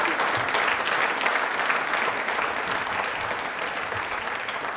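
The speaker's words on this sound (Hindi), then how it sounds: "अपने लिए तालियां बजा दो प्लीज एक बार" An audience at an Ambedkar Jayanti quiz programme claps in a dense, steady round of applause that lasts the whole stretch, loud and close, with no voices standing out.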